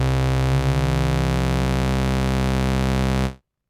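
A loud, buzzy sustained synth bass tone with a slight beating wobble from two detuned oscillators, holding steady for about three seconds before cutting off.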